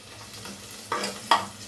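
Half a spoon of turmeric roasts in hot oil, giving a low, steady sizzle with two sharp scrapes of a steel spoon against the pan, with no talk.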